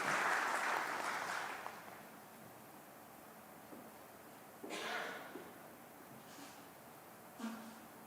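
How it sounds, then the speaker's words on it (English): Audience applause at a conference launching sustainability disclosure standards in Kenya, a burst of clapping that fills the opening second and a half and then fades out, followed by faint room noise and a few soft bumps. "Let's give the chairman a round of applause."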